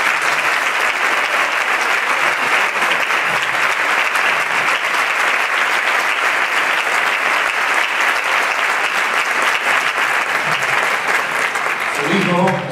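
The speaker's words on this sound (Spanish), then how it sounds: "Un aplauso, ¿no?" Festival crowd at a flamenco cante night in La Línea claps loudly and continuously, a thick unbroken roar of applause with a voice surfacing near the end.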